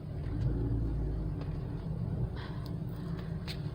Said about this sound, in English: We're driving on Main Street.